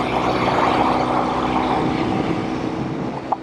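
A vintage Norton Atlas 750 motorcycle runs steadily in fourth gear, a close, continuous engine drone with a smooth, even tone and no pauses, holding a constant loud level throughout.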